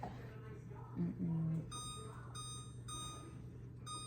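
A kitchen timer is set with a few faint electronic beeps against a steady low hum in a home kitchen.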